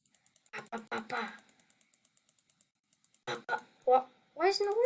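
Mouse and keyboard clicks from a computer player in a Roblox superhero tycoon game, a steady run of quick, light taps at close range, alternating with bursts of casual speech.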